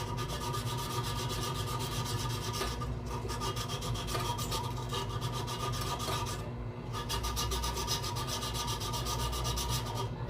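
Fine 1000-grit sandpaper rubs steadily over the inner pot of a rice cooker that leaves its rice uncooked. The close, continuous rasping runs on with two brief pauses.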